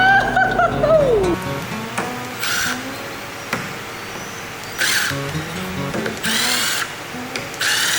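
A step drill bit cuts into 10mm acrylic for a sailboat window, with a motor whine that starts, drops and stops, then short bursts of bright cutting noise separated by pauses, close and with no talk.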